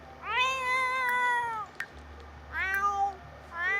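A cat meowing in the life-simulation video game The Sims 4, two long, drawn-out, clear meows close up over a faint background hum.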